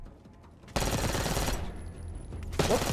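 Bursts of automatic gunfire in the Call of Duty Black Ops 6 campaign, dense rattling volleys that cut in abruptly, pause briefly, then resume, with a voice faintly present.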